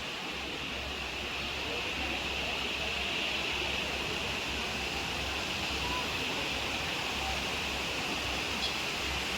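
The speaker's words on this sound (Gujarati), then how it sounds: "એટલું સરસ મજાનું ઝરણું વહી રહ્યું છે" A continuous rushing of a flowing mountain stream, steady and fairly close, with no pauses throughout.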